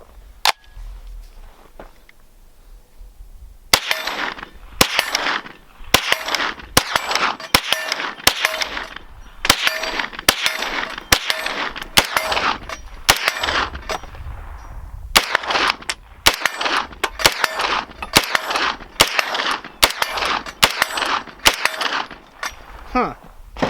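A Kriss Vector Gen 2 9mm carbine fires on a range during a recoil test. After a quiet start, a long string of sharp, loud, closely spaced shots comes in rapid bursts with brief gaps between them.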